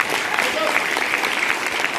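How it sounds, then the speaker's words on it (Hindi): Audience at a business meeting in Amritsar bursts into steady, loud applause, dense clapping filling the whole stretch without a break. "एक जोरदार तालियां"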